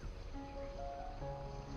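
Soft, steady rushing of water in an estate garden in Épernay, Champagne, a continuous wash with faint tonal hums layered over it, moderately close and unbroken by speech.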